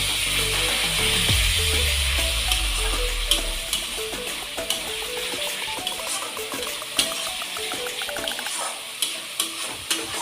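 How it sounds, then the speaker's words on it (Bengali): Chicken curry spice paste of ginger and garlic sautéing in oil over low heat, with an initial sizzle fading into a steady fry. A spoon scrapes and taps the pan at an irregular rhythm throughout, and no one speaks. "মশলাটা ভালো করে কষে নেব যতটা তেল বেরোচ্ছে।"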